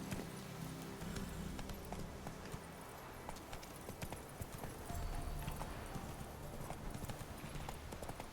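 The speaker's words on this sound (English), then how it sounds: "Whoa there, Roach." In the video game Witcher 3, a horse's hooves clip-clop in a fast, steady galloping rhythm throughout, fairly close and prominent over a dense background of ambient game sound.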